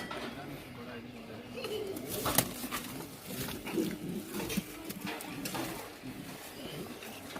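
A Pakistani pigeon caught near the Attari border coos in low, faint bursts while someone talks nearby, with scattered handling noises and rustling.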